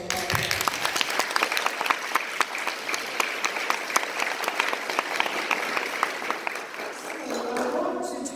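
Guests at a youth luncheon at an airmen's national convention clap together, a sustained round of applause with individual sharp claps standing out, fading away near the end.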